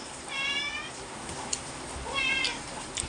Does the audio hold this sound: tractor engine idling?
no